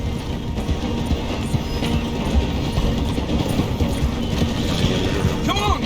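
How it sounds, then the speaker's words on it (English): Train slowing down through a station in the video game Red Dead Redemption 2, a steady rumbling mechanical clatter with rhythmic clip-clop-like knocks, continuous and fairly loud throughout. "The train is slowing down to go through the station."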